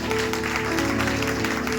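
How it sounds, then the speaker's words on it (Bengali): Long, dense applause from an audience at a gathering, a continuous wash of many hands clapping at steady loudness, with a faint sustained hum underneath. "আমার ইমিডিয়েট আপলাইন মিস্টার সাবিক ফরামি স্যারের জন্য দীর্ঘ হাততালি হয়ে যাচ্ছে"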